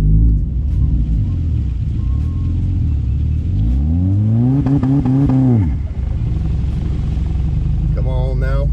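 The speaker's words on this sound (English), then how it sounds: "We're on a steep hill, but she's pulling her up the hill." A car engine with an ECS street clutch strains up a steep hill, a low rumble building into rising revs that climb and hold, then drop away, with a short rev burst at the end.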